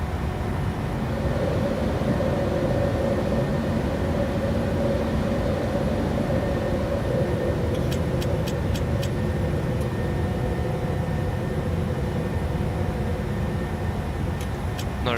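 Simulated Boeing 737-800 in Microsoft Flight Simulator 2020 climbing out after takeoff from Oslo, a steady loud broadband jet engine roar filling the whole stretch, with a few faint ticking clicks partway through.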